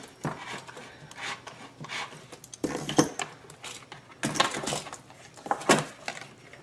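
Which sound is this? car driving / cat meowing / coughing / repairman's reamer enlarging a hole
repairman's reamer enlarging a hole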